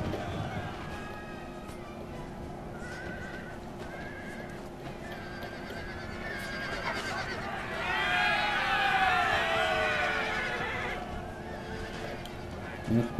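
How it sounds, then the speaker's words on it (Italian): Cavalry horses in the video game Napoleon: Total War neigh and whinny over a rumbling battle din with galloping hooves, the whinnies swelling louder midway as the charge builds. "Adesso lancio la cavalleria sul suo fianco destro"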